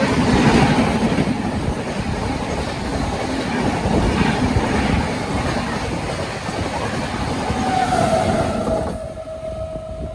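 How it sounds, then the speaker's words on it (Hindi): A CSMT Rajdhani express train rushes past at high speed, a loud continuous roar of wheels and rattling carriages with clickety-clack, easing off toward the end, with no talk over it. "क्या गजब स्पीड में निकली CSMT राजधानी, ज़बरदस्त।"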